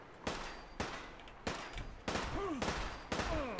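Enemy gunfire in Fallout 4, a series of six sharp, fairly distant shots spaced about half a second apart, each trailing a brief echo, with faint whistling tones between the later shots.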